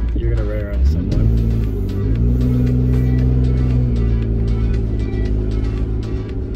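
A Jeep fitted with a Pedal Commander throttle controller revs and accelerates, its engine rising in a steady, loud drone that holds throughout, close to the listener with a voice faintly present.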